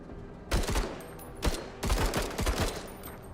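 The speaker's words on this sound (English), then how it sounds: "let's just open fire on them" Battle rifles in a video game fire in several rapid bursts, sharp cracking volleys separated by brief pauses, loud and close with no talk over them.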